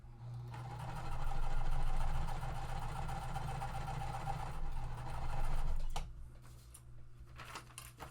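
A sewing machine stitching cotton quilt fabric pieces: a steady, close mechanical hum with a fine rapid chatter that runs for several seconds, dips briefly, surges again, then stops, followed by a few faint clicks and handling sounds.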